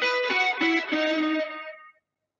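An electric guitar run through distortion and chorus effects holds one long sustained note with a few brief pitch shifts, loud and close, then fades out cleanly after about two seconds.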